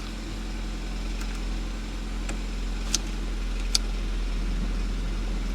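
An abandoned, low-mileage Toyota AW11 MR2 engine idles steadily and evenly, a low continuous hum with a few faint clicks, no voices.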